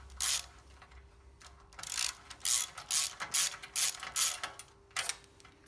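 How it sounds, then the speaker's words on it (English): An Allen wrench turning out the last bolt on a Yamaha MT10 exhaust link pipe gives rapid ratcheting clicks in short bursts, close but fairly quiet, with brief pauses between runs. "You just want to drop your Allen wrench on there. Take that all off."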